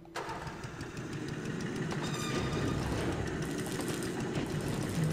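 Mine cart in Indiana Jones and the Infernal Machine rolling off along the track in King Sol's Mines, a sudden onset swelling into a steady, loud rumbling clatter that carries on without pause.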